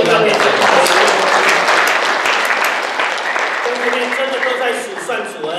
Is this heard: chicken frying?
no